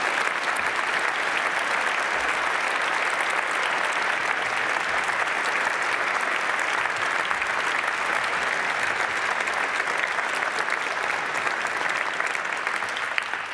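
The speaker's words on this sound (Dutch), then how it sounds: "Graag een applaus voor Marijke de Belder en Jeroen Oken." Sustained audience applause at a university Dies Natalis ceremony in Utrecht, even and dense for the whole stretch with no break and no talk over it.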